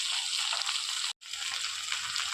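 Vegetables sizzle steadily in a pan as ginger and garlic go in, a dense close frying hiss broken by one brief silent gap before the sizzle resumes.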